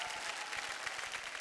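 Studio audience applause welcoming the two judges on a television show, a brief burst of dense, even clapping.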